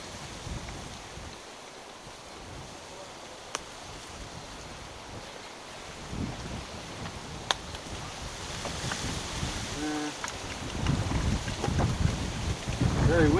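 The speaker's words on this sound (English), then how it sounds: "Very windy today." Strong wind buffets an outdoor spot where someone is changing their own oil, a steady roaring rush with gusts building louder toward the end.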